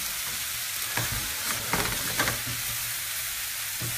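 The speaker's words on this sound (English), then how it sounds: "And in goes our cauliflower." Cauliflower florets for aloo gobi sizzle in a hot pan while a spoon stirs them, giving a steady frying hiss broken by a few soft scraping strokes.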